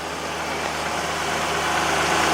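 A 2008 Honda Pilot engine idles right after an engine swap, a steady, close hum with a faint rise in level, heard alone with no talk.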